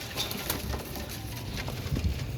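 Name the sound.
Qasuri pigeons cooing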